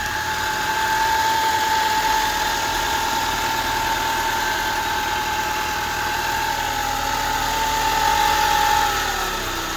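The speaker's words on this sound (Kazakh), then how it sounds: "Машина қазір от алып тұр." A Mercedes 124 engine idles steadily and continuously but roughly, with a slightly rough, vibrating hum and a faint high whine throughout.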